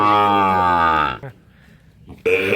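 A Sahiwal bull calf of about six months in a remote village gives a loud, long, close moo, then falls quiet before a second moo begins at the end.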